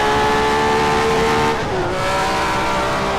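A Ferrari Formula 1 car's engine revving hard, a loud, close, sustained high-pitched scream holding steady, then briefly dipping and climbing again, with no voices.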